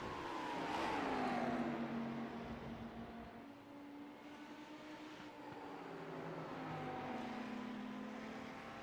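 GT3 race cars at Spa-Francorchamps in a racing video game, engines whining side by side with rising and falling pitch as they run down the back straight, steady and fairly close.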